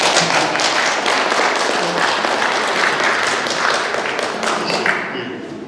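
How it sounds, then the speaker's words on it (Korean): A forum audience gives a steady, dense round of applause welcoming a film director to the panel. The clapping holds strong for several seconds, then thins and fades toward the end. "박수로 모시겠습니다."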